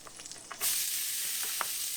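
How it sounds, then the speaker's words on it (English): Noodles hit hot butter in a pan and a loud, steady sizzle rises suddenly and holds, close and crackling, with light scraping as they are stirred. "You want to get a little sizzle."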